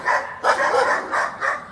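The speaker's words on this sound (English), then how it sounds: "Oh, the dogs" Several dogs bark in repeated bursts outside a home in Israel, four or five loud, fairly close volleys with brief gaps between them and no talk over them.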